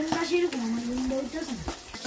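Pabda fish frying in oil in a home kitchen: crackling sizzle and spatter under a voice speaking, with a few sharp pops.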